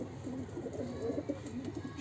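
Pigeons coo softly in low, throaty murmurs, repeating close by over a light whoosh of wind.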